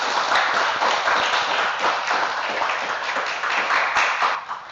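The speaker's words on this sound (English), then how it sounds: "Please give yourselves a round of applause" Sustained crowd applause from an audience at a National Honor Society induction and awards ceremony, dense and steady throughout, filling the room at a loud, even level.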